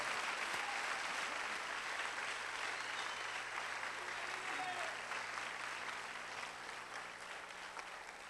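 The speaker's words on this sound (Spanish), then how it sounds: "Más fuerte el aplauso a Cristo." Steady, dense applause from a congregation during a church service, sustained at an even level for several seconds with no break, heard from a distance across the room.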